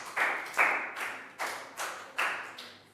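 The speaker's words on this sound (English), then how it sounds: "Big round of applause for Bang Pon." A small class of schoolchildren in a Year 3 English lesson claps for a classmate, a few ragged bursts of hand claps rising and falling in uneven rhythm, close and fairly quiet with no talk.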